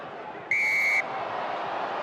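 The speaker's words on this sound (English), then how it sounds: "Now it's a long blast on the whistle" A referee at a rugby match blows one long, shrill whistle blast for about half a second, cutting sharply over the steady roar of the stadium crowd.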